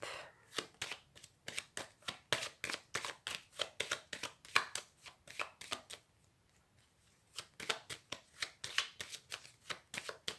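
A deck of tarot cards is cut and handled up close, making a quick run of crisp, rhythmic card snaps with a brief pause partway through before the snapping resumes.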